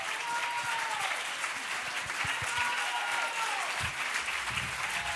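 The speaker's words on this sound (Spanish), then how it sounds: "yo ahora voy a pedir un fuerte aplauso para Ney Naif" Applause from an audience at a tarot congress in Barcelona, a steady wash of clapping that holds for several seconds with a few faint voices mixed in.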